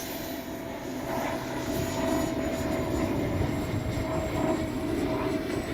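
A Freewing F-22 70mm electric ducted-fan RC jet flying at an airfield, a steady whooshing turbine-like roar with a high whine, moderately distant and constant throughout.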